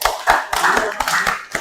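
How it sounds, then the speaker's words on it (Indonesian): A classroom of students clapping their hands together in a brief burst of quick, loud claps at close range, finishing within about a second and a half. "Kita tepuk tangan lagi dulu ya, satu kali enggak?"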